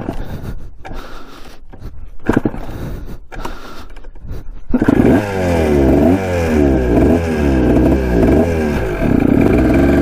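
Small-displacement Kawasaki dirt bike, previously locked up and mouse infested, idles after a few sputtering start attempts, then catches and revs repeatedly with a loud, close, buzzing engine note that rises and falls in rhythmic pulses.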